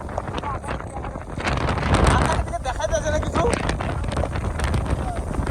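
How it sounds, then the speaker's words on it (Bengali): Strong gusting storm wind with rain at a riverside ghat buffets the microphone in loud rushes while a person speaks over it outdoors. "দেখো গাইস বিশাল জোরে হাওয়া আছে, বিশাল জোরে বলবো ঝড় উঠছে।"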